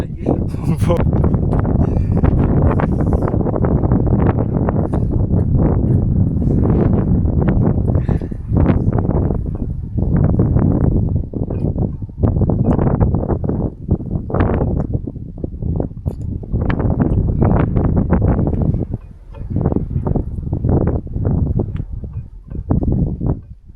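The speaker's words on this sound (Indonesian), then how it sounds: "di sini anginnya kencang banget" Strong wind roars across a mountain summit in a steady, loud buffeting rush that runs almost unbroken for the whole stretch, with gusty surges and rustling bursts.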